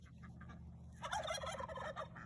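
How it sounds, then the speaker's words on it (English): A flock of turkeys gobbles in a farmyard alongside chickens, a burst of rapid, warbling calls rising after a quieter start, moderately distant and fairly faint with no talk. "Tons of turkeys and chickens."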